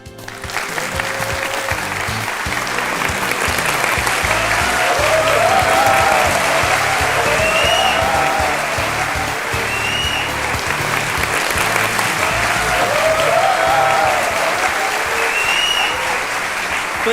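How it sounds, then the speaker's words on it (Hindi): Sustained studio audience applause fills the space steadily and loudly, welcoming a Shiv Sena spokesperson and Saamana editor onto the Aap Ki Adalat courtroom-style talk show set. "तो ये तालियां बजते रहें"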